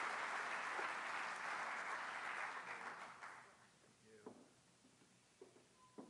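Audience applause welcoming Secretary Domenech at a DEQ 20th anniversary event, a broad even roar of clapping from a crowd that tapers off over about four seconds, followed by a few scattered claps and faint room noise.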